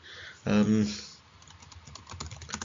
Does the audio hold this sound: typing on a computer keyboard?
yes